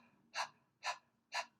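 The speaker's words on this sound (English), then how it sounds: "You can kind of bounce like ha, ha, ha, ha, ha, ha, ha, ha. Just as if you were panting." A person demonstrates a vocal breathing exercise with three evenly spaced, breathy panting bursts, each a short airy 'ha', close and fairly quiet against near silence.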